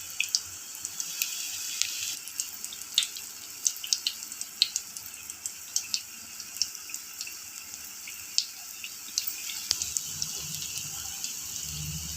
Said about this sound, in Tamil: எண்ணெய் நல்லா சூடானதுக்கப்புறம் போண்டாவை போட்டு எடுத்துக்கலாம்.